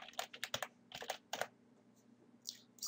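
Close-up typing on a computer keyboard: quick irregular bursts of crisp keystrokes, a short pause, then a few more taps, with no voices.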